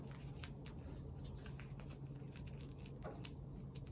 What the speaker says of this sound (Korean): 그리고 반을 여기에 맞춰서 접어줍니다